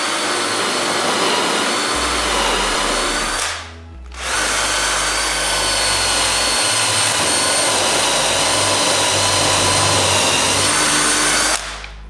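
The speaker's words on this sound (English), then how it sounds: "I use a 1-inch template bushing to cut the holes." A router fitted with a 1-inch template bushing cuts holes in a wooden soffit inside a workshop, a loud steady whine that drops out briefly and then resumes at full speed until it winds down near the end.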